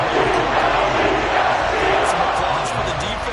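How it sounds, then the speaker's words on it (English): A stadium crowd at an Eagles vs Vikings football game roars for the defense in a loud, dense, sustained wash of cheering that fills the whole stretch. "Some applause for the defense there."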